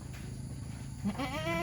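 A goat on a farm in Ban Kruat where newborn kids are being fed colostrum lets out a single short bleat near the end, heard close over a low, steady background hum.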